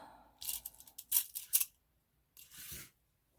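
Large-handled crochet scissors snip and clack in a few quick, close, crisp bursts, a short pause, then one more handling rustle, with no talking.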